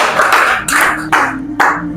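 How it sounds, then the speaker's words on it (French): Church congregation bursts into applause after a prayer, several dense waves of clapping rising and falling over two seconds, a low held tone beneath and no talking. "Nous disons Amen et nous acclamons."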